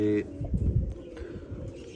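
Pigeons coo in soft, low rolling calls close by, joined by a brief chirp, while a voice talks over them.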